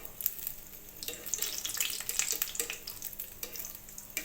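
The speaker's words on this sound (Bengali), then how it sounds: "তেল গরম হয়ে গেছে। এখন এক এক করে সবগুলো পিঠা দিয়ে নিব।" Semolina pitha cakes frying in hot oil give off a steady, quiet sizzle with crackling bursts, close and continuous with no talking.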